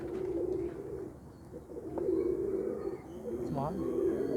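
Pigeons coo in repeated low, throaty phrases, close and fairly loud over a steady background murmur, with a brief rising call near the end; a voice may be faintly present.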